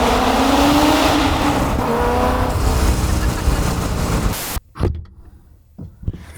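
A Corvette makes a quick full-throttle pass, its loud engine roaring steadily close by for about four seconds before cutting off abruptly, followed by a few faint knocks and clatters in a quieter space.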